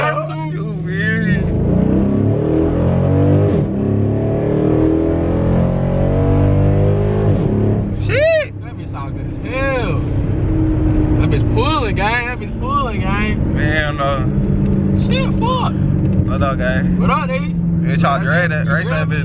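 Tuned Dodge Charger SRT8 Super Bee engine revving hard, loud and close, with rising and falling rev sweeps and sharp exhaust pops toward the end, while a voice talks over it.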